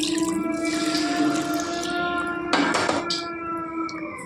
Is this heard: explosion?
no